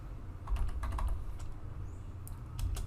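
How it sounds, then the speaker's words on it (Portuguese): Keys clatter on a computer keyboard in a quick, irregular run of soft taps close by, over a low steady background hum, with no talking. "vou passar a digitar o seu novo nome"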